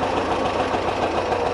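Porsche 914 with an air-cooled flat-four engine idling, a steady, loud, close rumble with an even low pulsing throb and no talking.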